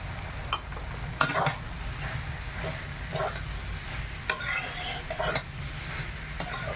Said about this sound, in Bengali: আদাটা খুব সুন্দর ভাজা হয়ে গেছে, এইবার বাঁধাকপিটা দিয়ে দিই। বাঁধাকপি আর কড়াইশুঁটি।